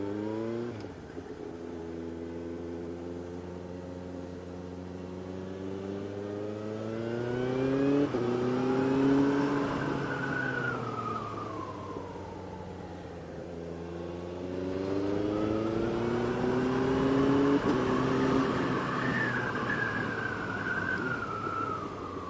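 A Yamaha FZS1000 first-generation FZ1 motorcycle accelerates hard through gears using a HealTech quick shifter, engine pitch climbing and dropping abruptly at each shift, heard from the rider's position over two long pulls.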